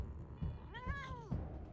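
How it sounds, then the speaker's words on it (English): A cat meows once in the video game Wasteland 3, a clear, drawn-out mew with rising and falling pitch set against low game background noise. "The cat almost takes out the turret."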